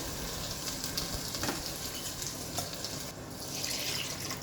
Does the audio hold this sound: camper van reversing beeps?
no